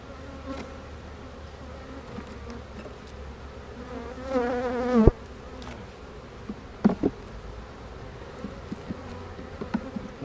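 Honey bee colony buzzing steadily inside a laying hive being combined with a split, a dense close drone of many bees that swells briefly, with a few soft knocks of frames but no talk.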